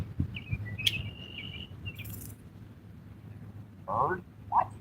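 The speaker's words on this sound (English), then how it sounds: "That bird is about to run into me there?" Short high bird chirps and a sustained whistled call sound over steady low outdoor rumble beside a fishing spot, followed by two brief louder bursts near the end.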